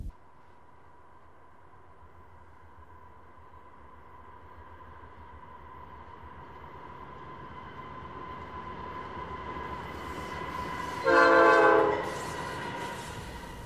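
A train rumbles steadily nearby, growing slowly louder, then a loud horn blast sounds for about a second before the rolling rumble continues.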